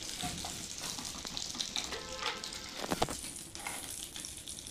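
Cumin seeds sizzling and crackling in hot oil left from frying pointed gourd, a close bright hiss with scattered spatters and a few stirring clanks, loudest near the middle.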